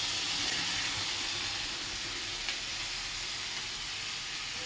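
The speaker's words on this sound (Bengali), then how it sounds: "বাঁধাকপি আলু ও মটরশুঁটি দিয়ে দিচ্ছে কড়াতে" Cabbage, potatoes and peas fry in a wok, giving a constant close hiss of sizzling oil and steam with no talking.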